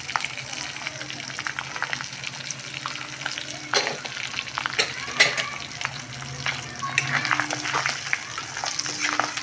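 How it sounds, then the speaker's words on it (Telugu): Gongura leaves and dried fish fry in oil in a pan, a continuous loud sizzle with crackling bursts and occasional scraping stirs, close by. "కాసేపు నూనెలో ఉడకనివ్వాలండి"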